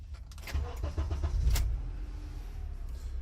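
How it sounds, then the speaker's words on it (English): Car engine starting up close by: a short cranking chatter that catches and settles into a steady low idle rumble, with no voices. "Let me start the car"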